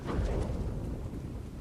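Steady hiss of rain with a low thunder rumble in the video game Starfield, filling the background evenly with no talk.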